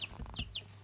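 Young chicks near a farm hen make a few quick soft chirping calls, faint and close, in a brief burst with no talk.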